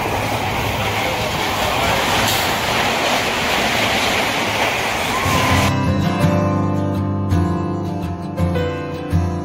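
Jan Shatabdi passenger train travelling, a loud steady rolling roar that shifts midway into a clearer rhythmic clickety-clack of wheels over rail joints, heard from inside the carriage.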